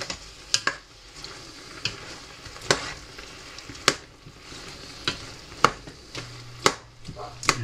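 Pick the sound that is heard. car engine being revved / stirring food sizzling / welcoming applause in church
stirring food sizzling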